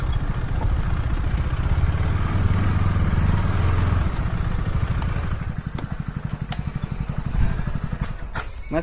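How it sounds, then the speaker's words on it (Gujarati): A TVS motorcycle engine runs with a steady, loud, close rumble that eases slightly toward the end, with a few clicks and clatters mixed in and no clear talk. "મસ્ત બાઈક છે ને ટીવીએસ."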